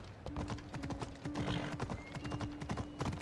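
Steady clip-clop of horse hooves in the video game Assassin's Creed Odyssey, brisk and rhythmic, with a faint sustained tone in the background.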